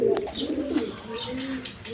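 A pair of Bombay Indian pigeons, nesting on two eggs, give low repeated coos close by, alone with no talk.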